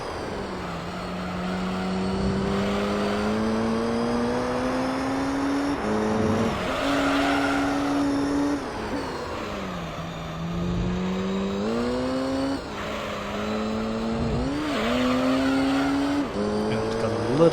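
A race car in Gran Turismo 3 on Special Stage Route 11, its engine revving continuously and loudly, climbing in pitch and dropping back at each gear shift, with tire noise underneath.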